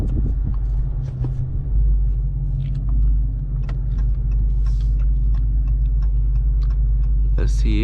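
Inside a new 2020 Dodge Charger R/T, the engine gives off a steady low rumble at the start of a test drive. Light clicks and shuffling sounds from the cabin are mixed in, and a voice is heard briefly near the end.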